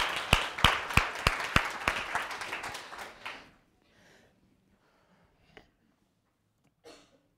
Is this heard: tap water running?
no